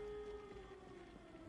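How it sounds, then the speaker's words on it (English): An air raid siren in the zombie survival game Project Zomboid holds a steady, drawn-out wailing tone, faint and distant, under a low rumbling background. "I don't know who set off the air raid siren"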